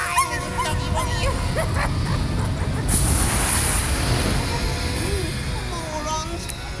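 A dog barks, yips and whimpers in the video game Heart of Darkness, several sharp barks and whines over busy game sound effects and music, with a voice briefly heard.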